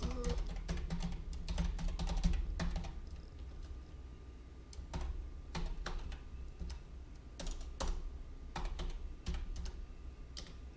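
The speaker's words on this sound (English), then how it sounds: "You can type Mediainfo right here in the command line," Typing on a computer keyboard at a command line, with quick bursts of crisp key clicks that pause and resume across the whole stretch, close by and fairly quiet, with no talking.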